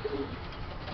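Jansen racing pigeons cooing softly in a loft, one brief low coo over a faint steady background hum.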